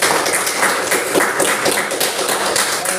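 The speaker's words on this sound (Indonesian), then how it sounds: "Tepuk tangan untuk semuanya." A classroom of students applauds in a dense, steady burst of clapping that stays loud and close the whole time, with little talk.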